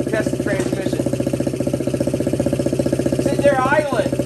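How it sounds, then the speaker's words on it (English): A 1979 Honda Z50 minibike engine idles with a fast, even putter of closely spaced pulses, loud and close, with a faint whistling sound briefly over it near the end. "Sitting there idling."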